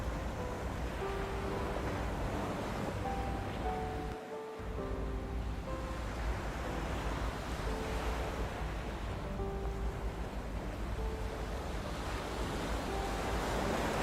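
Steady ocean surf with waves washing in continuously, mixed with wind noise and soft piano notes over the whole stretch.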